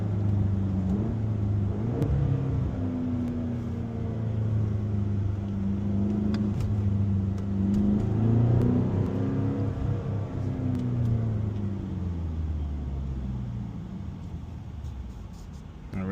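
A BMW X6M (F85/F86) with a Valvetronic Designs valved sport exhaust rumbles steadily and close up, its engine note rising and falling through a downshift, with no talk over it.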